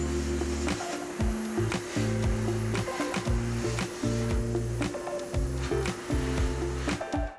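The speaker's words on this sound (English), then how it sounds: "So we're going to hit this with an aluminum oxide and a dry blast" Dry abrasive blasting of an aluminum sample with aluminum oxide grit, a continuous rushing hiss from the blast nozzle over a droning compressor hum with shifting tonal bursts, loud and close, with no speech.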